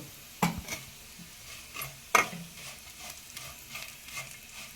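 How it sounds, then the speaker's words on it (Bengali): Fried potato and pointed gourd peels scattered with poppy seeds, stirred in a pan: a few sharp scraping clacks over a faint, low sizzle, with no talking. "পোস্ত ছড়িয়ে দিলাম এবার এটিকে সামান্য নাড়াচাড়া করে নেব"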